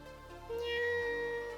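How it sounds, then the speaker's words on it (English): Cat-like 'nyan' meow sound effect made for a game jam: a short, tonal synthetic meow rising then holding steady, played once over a quiet background hum. "I was just trying to make a nyan sound."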